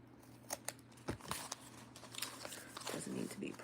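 Scissors snip through a piece of paper in a few quick, crisp cuts with light crinkling, close and fairly quiet over a low steady hum.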